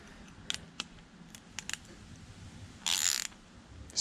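The carburetor bowl of a Craftsman 21-inch 5hp two-cycle snowblower is snugged down with a tool, giving quiet ratcheting clicks and small taps. A louder gritty burst of about half a second comes near the end.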